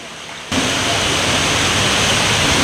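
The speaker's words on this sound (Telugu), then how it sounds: "ఇంత వర్షంలో కూడా" Heavy rain suddenly bursts into a dense, even roar during an outdoor Bhagavatam discourse in Gauribidanur, continuing steadily after the abrupt start.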